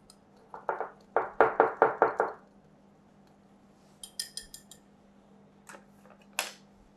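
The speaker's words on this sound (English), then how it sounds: "I'm going to whisk it together." Eggless brownie batter is whisked in a bowl with a fast run of close, rhythmic taps and scrapes, followed by a few lighter clinks and a faint knock.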